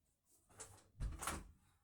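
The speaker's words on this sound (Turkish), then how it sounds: "Kapıyı kapatayım bari." A front door in a home swinging shut, a quiet handling rustle followed by a firmer thud and latch click, close by and alone in an otherwise still room.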